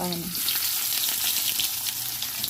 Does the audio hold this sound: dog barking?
no